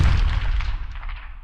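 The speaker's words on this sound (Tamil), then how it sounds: "துப்பாக்கியால் சுடும் சத்தமும் கேட்டது." A gunshot sound effect in a Tamil audiobook thriller: one loud, close boom with a short decaying tail and no voice.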